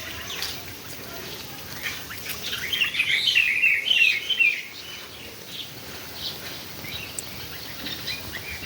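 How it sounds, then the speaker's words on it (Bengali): Birds chirp and call in a garden beside a house under construction, a brief bright burst of song rising mid-clip over a steady outdoor background, no voices. "দেখেছো বন্ধুরা কি সুন্দর পাখি ডাকছে।"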